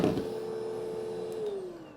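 A dog hair vacuum cleaner hums steadily at close range while sucking up loose dog hair, a sustained motor tone that drops slightly in pitch and fades toward the end.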